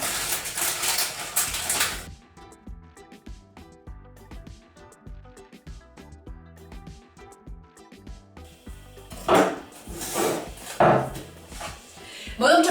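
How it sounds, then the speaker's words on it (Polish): A knife chops a bar of chocolate into small pieces on a board, producing quick, irregular close knocks and taps. Bursts of broader rustling noise come at the start and again near the end. "Czekoladę siekamy sobie na drobne kawałki, żeby szybko spuściła się z masłem."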